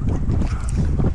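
Bora wind on the coast at Pula buffets the microphone in a continuous loud low rumble with gusty fluctuations throughout.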